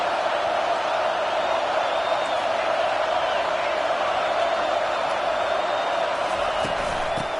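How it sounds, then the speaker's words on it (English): A home crowd at a football game roars continuously and loudly, a dense wall of cheering and whooping that holds steady with no let-up. "how nice is it to have the home crowd going absolutely bananas?"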